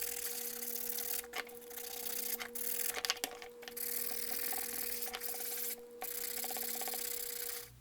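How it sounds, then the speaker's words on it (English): A Glock 19 Gen 4 polymer frame is hand-sanded with 120 grit sandpaper: a steady, close, gritty rubbing with short pauses and a few sharper scrapes, at low volume and with no talk. "we'll go ahead and work with the 120 grit sandpaper by hand"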